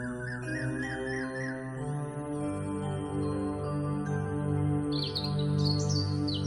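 A Major Mitchell's cockatoo, also called Leadbeater's or pink cockatoo, calls over a dense chorus of other birds and a steady drone, with wavering screechy notes near the start and again toward the end, fairly close and continuous.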